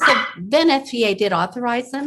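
A small dog yaps in short bursts in the background while a person keeps talking over it.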